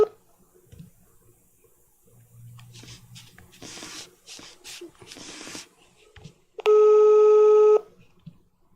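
On a live call-in radio show, a telephone line gives a loud, steady electronic tone lasting about a second after the caller drops off, following quieter studio talk and rustling.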